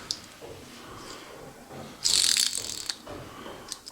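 Worn wheel bearing on a classic Mini 1100 being turned by hand, giving a rough grinding scrape that catches and jams, with a louder harsh burst partway through amid a quiet workshop background.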